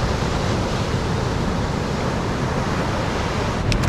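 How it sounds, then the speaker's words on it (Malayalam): Sea waves at the shore of the coast at Mattool, Kannur, heard as a steady loud broadband wash of surf and wind, unbroken for a few seconds. "ഇപ്പോൾ കടൽ തിരമാലകളുടെ സൗണ്ടൊക്കെ നിങ്ങൾക്ക് ഇവിടെ നിന്ന് കേൾക്കാം."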